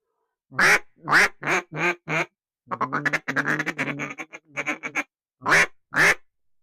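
Ducks quack repeatedly near a duck blind in the field, several loud nasal bursts at the start and end with a faster chattering run of calls between, close and clear with no talk.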